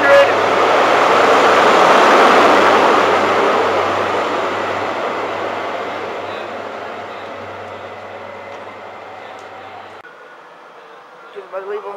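Class 43 HST power car 43300 at Newark North Gate station, a loud diesel roar that swells over the first seconds and then slowly fades as the train moves away.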